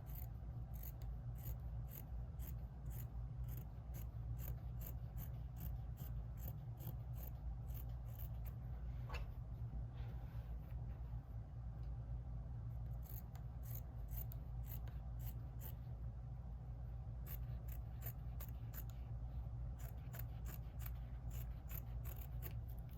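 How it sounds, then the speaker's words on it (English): Scissors snip quilt fabric along a drawn line, a faint steady series of small crisp cuts over a constant low hum, close and quiet with no talking. "that's where I'm gonna cut. Right on that line."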